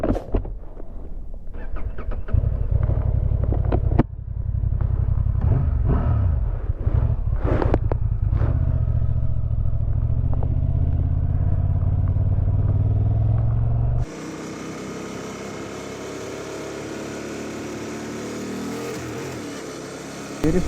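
A 2024 Honda Transalp XL750 adventure motorcycle's engine heard from the rider's position, a loud steady drone that rises as it revs, then shifts to a rushing wind-heavy roar at higher speed, with no talking.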